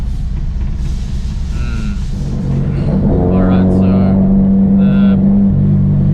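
Honda K-series car engine idling unevenly after warming up, a low steady hum that rises into a revving drone, loud and close, with someone speaking briefly over it.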